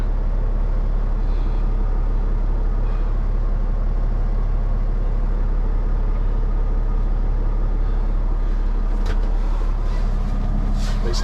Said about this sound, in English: there's a garbage truck.